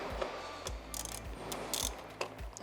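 A hand ratchet clicks in short bursts while loosening a small 10 mm screw in the engine bay of a Suzuki Swift 1.2 VVT, with sharp metallic pawl ticks repeating in an uneven rhythm close up.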